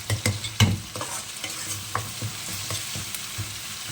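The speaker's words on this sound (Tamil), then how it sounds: "இஞ்சி பூண்டு பேஸ்ட் வந்து நல்ல வதங்கினாதான் வந்து அதோட ஸ்மெல்லாம் வந்து போகும்" Ginger garlic paste sizzles in a pan while a spoon stirs it, making a series of scraping knocks over a steady crackle, strongest at the start, with no voices.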